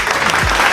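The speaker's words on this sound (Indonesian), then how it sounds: "Tepuk tangan dong buat Pak Indi." Applause for a successful property businessman from Pati, honored on stage at a talk event: a short, dense burst of clapping from an audience that fills the whole moment at steady loudness.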